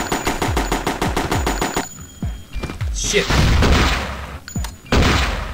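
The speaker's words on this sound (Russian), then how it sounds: "Так что давайте попробуем теперь еще и автомат." An automatic rifle in the Madness Interactive game fires a fast, steady burst of sharp shots, then pauses and follows with scattered single shots, thuds and impacts, while a voice speaks briefly.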